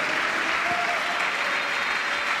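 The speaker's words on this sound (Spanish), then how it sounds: "Démosle un aplauso a ese Dios maravilloso" A church congregation at a pastor's sermon applauds with steady, dense clapping for a couple of seconds.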